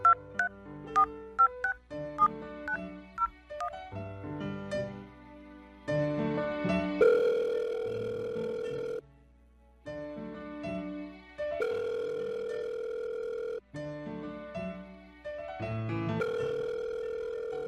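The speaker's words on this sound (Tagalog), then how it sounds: "Eto na, tatawagan ko na." A phone call being placed: a quick series of touch-tone dialing beeps, then a repeating pattern of sustained ringback tones with short silent gaps between them, clear and close.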